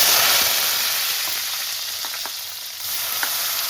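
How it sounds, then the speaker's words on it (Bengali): Salted brinjal (eggplant) fries in hot oil in a wok, giving a bright, steady sizzle up close, punctuated by a few faint clicks of stirring. "এখন আমি এই বেগুনটা প্রথমে ভেজে নিচ্ছি"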